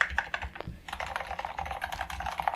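Enter key on an MSI Strike Pro full-size mechanical gaming keyboard with Kailh Midnight Pro Silent Tactile switches, tapped in a rapid flurry of muted, soft clacks that run together into a steady close-up patter.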